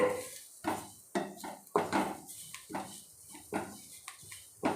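A spoon stirring an asafoetida mixture in a pan for kuli paniyaram batter, a series of close metallic scrapes and clinks in an irregular rhythm with short pauses between strokes.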